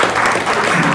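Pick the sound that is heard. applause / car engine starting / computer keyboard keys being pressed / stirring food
applause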